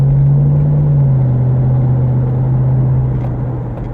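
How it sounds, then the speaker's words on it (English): A jacked-up pickup truck engine revs hard and then settles into a steady, loud rumble close by, with the sound easing slightly toward the end. "Guy in a jacked up pickup truck got to stomp on the gas pedal."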